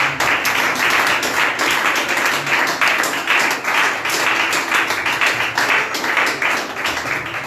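A church congregation at a Sunday service claps and cheers together, a dense, loud, continuous wash of applause filling the room with no pauses.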